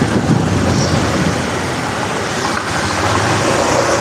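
Steady, dense road traffic on a busy street in Makassar during a congested afternoon: a continuous wash of car, bus and motorbike engine rumble and tyre noise, fairly loud and close, with no pauses or speech.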